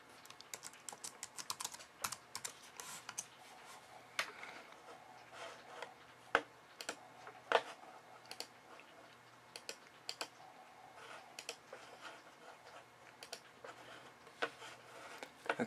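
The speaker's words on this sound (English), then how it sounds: "Hit choose, and I'll just type in hello world." Typing on a computer keyboard while entering code in Xcode for an iPhone app: steady, close clicking keystrokes with irregular rhythm and a few sharper, louder taps over a faint low hum, no voices.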